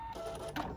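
A sewing machine runs a short fixed stitch on a fabric double wine bag, giving a brief, steady mechanical whir that swells slightly near the end, with no voices.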